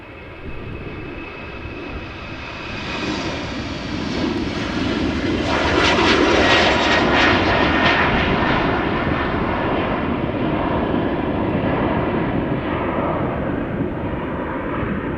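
A KLM jet airliner roars past at Amsterdam Schiphol Airport, its broadband engine rumble swelling to a loud peak midway and holding steady as it passes, with no voices.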